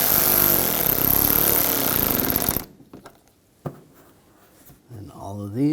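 A tool drives headlight assembly screws into a 2011-2018 Volkswagen Jetta in a loud, dense burst of roughly two and a half seconds, then stops. A few faint clicks and light handling noises follow in near quiet.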